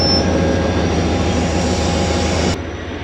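A passenger train in Sindh runs on the rails with a loud, steady rumble and rhythmic wheel clatter, heard close up before the level drops abruptly near the end.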